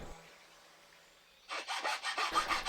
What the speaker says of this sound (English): And now a little bit of sanding